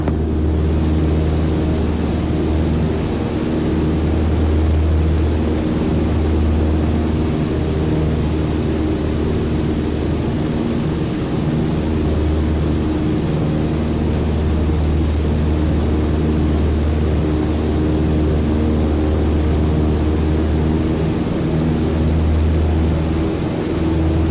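A Cessna 152 engine at full climb power in a flight simulator gives a loud, steady, droning propeller hum with no pauses.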